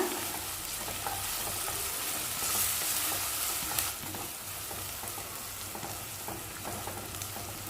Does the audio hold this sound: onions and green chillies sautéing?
yes